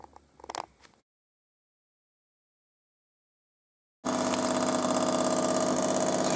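A Jura coffee machine running its descaling cycle: after a brief clatter and a few seconds of silence, a loud, steady, rattling pump drone starts abruptly and continues evenly, close up.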